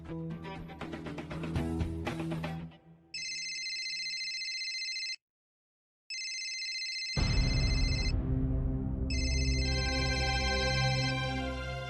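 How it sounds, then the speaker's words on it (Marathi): A phone ringing indoors, with repeated electronic tone bursts broken by a brief pause, and music playing before and after them. "कुणाचा फोन आहे? उचल ना, फोन घे ना"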